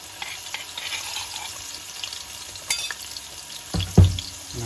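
Garlic dropped into hot olive oil with onions sizzles with a soft, steady hiss, followed by a brief louder clatter and surge of frying noise near the end.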